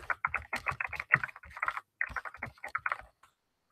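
Fairly noisy computer keyboard typed in quick, uneven bursts of close clicks, with a short pause midway and a trailing stop, quiet overall with no speech.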